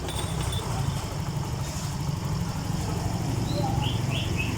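A Yamaha Mio M3 motorcycle engine with a fault, running at a steady idle close by, a continuous low rumble with no talk and faint birds chirping in the background.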